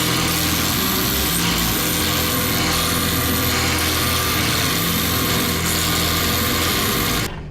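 A drill press runs with a drum sanding wheel, shaping material in a steady loud broadband whine and grind that holds continuously, then cuts off abruptly at the end.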